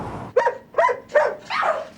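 Dogs in a suburban household with six dogs bark loudly and close by, four sharp barks in a steady rhythm, the last one longer and rougher, with no talk over them.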